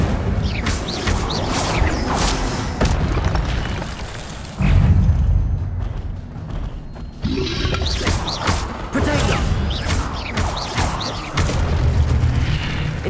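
An Incendio fire spell cast in Hogwarts Legacy sends out loud, repeated fiery whooshes and booming crashes in dense waves, with brief lulls between blasts.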